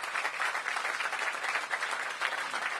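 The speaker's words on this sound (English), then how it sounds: "Give them a big round of applause." Steady, moderately loud applause from an audience for council members at the ribbon cutting of the Ward 8 Entertainment & Sports Arena, dense continuous clapping with no voices over it.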